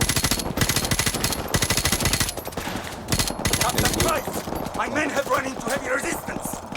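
Rapid automatic gunfire rattles in long bursts in Call of Duty: Modern Warfare Remastered, then gives way to scattered shots and game sounds with voices talking over them.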